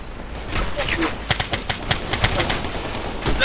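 Video game gunfire in Operation Flashpoint: Red River comes as rapid bursts of sharp shots. Shouted radio-style voices run between and under the volleys.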